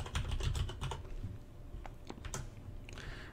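Computer keyboard typing, with a quick flurry of key presses that thins into scattered single clicks, close up and clear.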